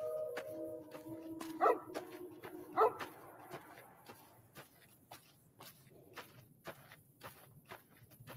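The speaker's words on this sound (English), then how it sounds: "Oh, don't shoot the dog." A dog in a video game lets out two sharp barks amid scattered footsteps and faint clatter, the rest of the scene quiet and sparse.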